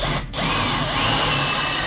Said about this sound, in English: Drilling holes is my new favorite thing in the world.